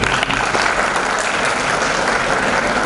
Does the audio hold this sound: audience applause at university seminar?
yes